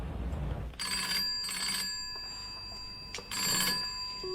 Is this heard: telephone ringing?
yes